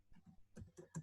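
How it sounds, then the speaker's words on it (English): Keys tapped on a computer keyboard, a handful of quiet, close clicks in an uneven rhythm, with no talking. "So I'm going to type in Mahoning Valley"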